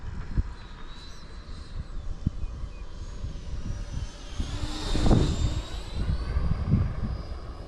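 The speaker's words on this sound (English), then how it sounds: "We're gonna do a little slow pass with the flaps on." An E-Flite Viper 90mm electric ducted-fan RC jet makes a slow pass with its flaps down at about quarter throttle, its whooshing whine swelling as it sweeps close overhead and then fading again.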